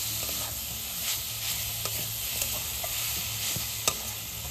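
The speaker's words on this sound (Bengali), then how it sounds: "করে এইভাবে 2 মিনিটের মতো মিশিয়ে নিলে খুব সুন্দরভাবে মিশে যাবে।" Grated coconut and jaggery filling for palm-fruit pitha is stirred in a pan with a steady soft sizzle and scattered scrapes of a spoon, close and fairly quiet, no one speaking.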